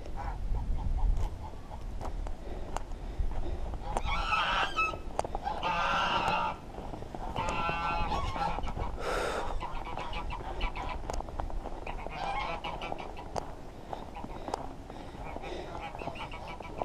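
Backyard hens in a snow-covered shed cluck and squawk in short bursts, fairly close, between stretches of quiet ambience and faint talk.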